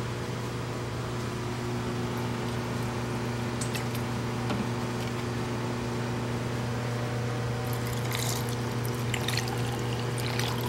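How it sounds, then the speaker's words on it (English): Water pours steadily into a bottle holding all-purpose cleaner while skeletal remains are prepared for archiving, a soft continuous splash over a steady mechanical hum with no talking. "then fill the rest of it full with water"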